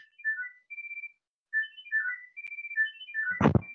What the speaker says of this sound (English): Is that a phone ring?